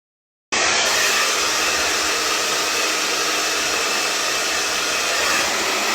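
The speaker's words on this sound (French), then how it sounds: "Et je vais venir sécher mes cheveux." A hair dryer switches on abruptly and blows with a loud, steady airy roar while drying hair, continuous and close.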